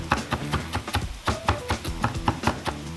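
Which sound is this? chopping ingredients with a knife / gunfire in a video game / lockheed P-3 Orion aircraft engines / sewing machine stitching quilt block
chopping ingredients with a knife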